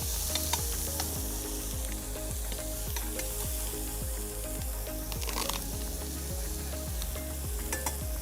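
Green chilies frying in oil in a pan at a food expo cooking demo, a loud steady crackling sizzle over a repeating low mechanical pulse, with occasional sharper pops and spatters.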